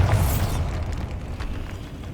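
A Bombarda explosion spell goes off in Hogwarts Legacy, a loud, close boom that is sharp at the start and then leaves a broad rumbling decay lasting about two seconds.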